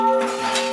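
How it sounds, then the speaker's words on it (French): A church bell in Mosul rings once with a bright metallic strike, its tone ringing on and slowly decaying, close and fairly loud. "Symbole de ce renouveau, la cloche de l'église."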